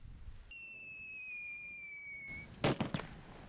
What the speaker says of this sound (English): Pull sharply on the cord, which will ignite the safety fuse and eventually the whistle charge.